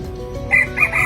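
A jungle fowl rooster gives short, high crowing calls close by, repeated in quick bursts over a low background hum.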